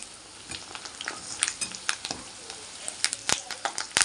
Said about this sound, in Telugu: ఇలా వేగేటప్పుడు అండి మూడు పచ్చిమిరకాయలు కొంచెం కరివేపాకు వేసి వేయించుకోవాలి